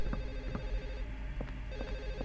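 An apartment telephone rings in the Silent Hill 4 video game, repeated bell trills over a low steady background hum, moderately faint and without speech.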